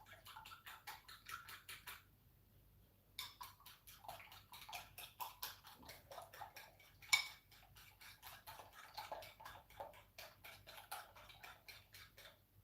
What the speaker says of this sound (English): use my fork, give them a bit of a whisk